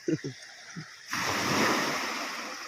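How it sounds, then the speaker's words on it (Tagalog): Sea waves crash onto a shore where the water is rough, a loud, steady rush of surf that swells in and holds after a few brief spoken sounds at the start. "yung mga hampas ng hampas ng alon"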